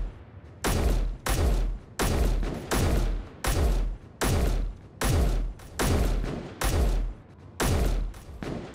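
Repeated heavy gunfire in the Space Engineers survival game, about a dozen loud, booming bursts fired in a steady rhythm, each ending in a short thudding tail with brief gaps between them.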